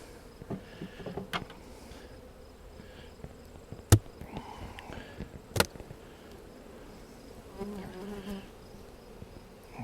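Saskatraz honey bees buzz around their hives in a steady, close swarm drone, with individual bees passing near and several sharp knocks or taps from handling the hive boxes.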